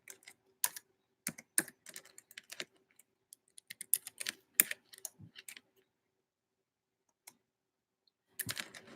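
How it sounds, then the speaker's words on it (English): Typing on a computer keyboard in short irregular bursts of clicks and key taps, close and fairly quiet, with a few pauses and a final fast flurry of keystrokes. "I'm going to type my donation."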